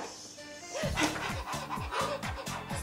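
A puppet dog in a children's snowman puppet show pants in quick, rhythmic breaths mixed with short yips, close up. The sounds appear to be voiced by a performer rather than made by a real dog.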